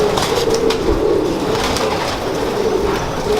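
A pigeon coos in soft, repeated low throaty phrases close by, a steady rolling rhythm over faint background noise.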